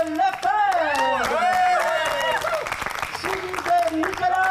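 A live audience applauds an improv player as he is introduced at an improv night, a dense wash of clapping over a warbling, sustained tonal sound, with the crowd noise steady throughout.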